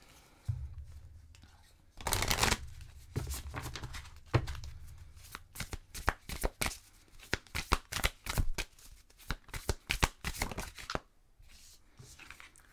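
Oracle cards are shuffled close up in bursts of brisk riffling and slapping, with a soft voice murmuring in the background between the flurries.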